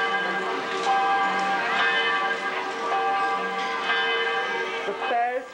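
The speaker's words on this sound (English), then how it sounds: "The bells ring again." Church bells near a castle and guest house ring in a continuous, overlapping peal, several resonant tones struck again and again at moderate distance for several seconds.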